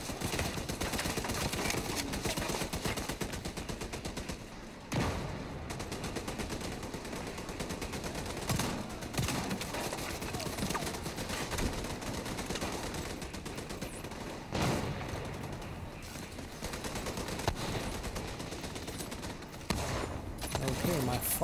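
Sustained automatic gunfire rattles through a firefight in The Division 2 at Tidal Basin, dense rapid bursts broken by a few brief pauses, loud and close throughout.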